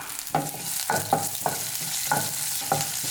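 A spoon stirs nuts and green chillies in a pan for oats upma, giving repeated scraping strokes, about six in quick succession, over a steady frying sizzle.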